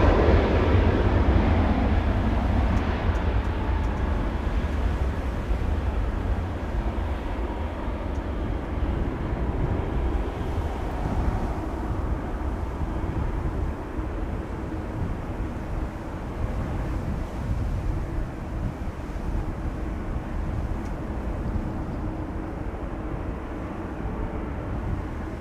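Jet departing runway 18 Left at Amsterdam Schiphol Airport on a windy day, a sustained loud broadband roar that is strongest at the start and eases slightly, with wind noise throughout and no voices.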